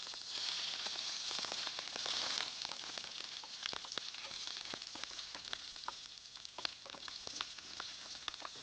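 Green chilies and urad dal fry in hot oil in a pan, giving a steady close sizzle with dense crackling pops and spits throughout, no talking.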